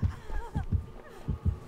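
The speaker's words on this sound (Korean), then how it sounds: "심장 박동수가 계속 들려." A heartbeat in the video game Dead by Daylight, a low thumping double pulse repeating about twice per second, close and muffled, with faint background game ambience.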